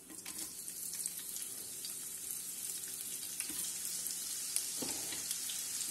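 Onions frying in oil and butter with bay leaves and cinnamon, making a continuous loud sizzle that holds steady throughout, with a few faint stirring knocks.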